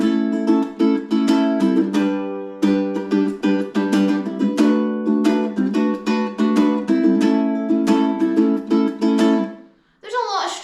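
Recording of a song, busy strummed chords in a quick, driving rhythm with punchy accents, playing loudly and steadily before dropping out near the end.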